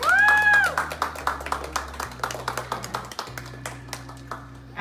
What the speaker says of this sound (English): can you please give these ladies a wonderful round of applause?